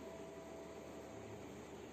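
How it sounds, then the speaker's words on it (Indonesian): A steady low rumble and hum inside the Penataran Doho local train while riding, a constant faint drone with no talk. "Jadi ini pakai kereta api lokal Penataran Doho"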